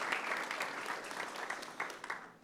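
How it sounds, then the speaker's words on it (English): A short burst of steady applause fills a city council meeting chamber as the audience claps together for honored young people, dense and close, tapering off slightly at the end. "a round of applause."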